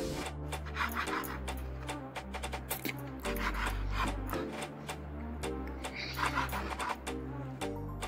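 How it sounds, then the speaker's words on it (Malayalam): Knife sawing through a loaf of bread for a sandwich, a steady run of rasping back-and-forth strokes at close range over a low background hum, with no talk. "മെയിൻ ആയിട്ട് വേണ്ടത് ബ്രെഡ് ആണ് ഞാൻ കട്ട് ചെയ്ത് കാണിച്ചു തരാം"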